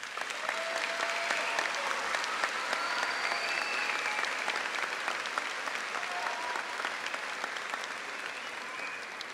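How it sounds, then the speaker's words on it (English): A high school graduation crowd applauds the graduating class with a sustained, dense wash of clapping that stays level for several seconds, with a few faint shouts rising from the audience. "Let's give them a round of applause."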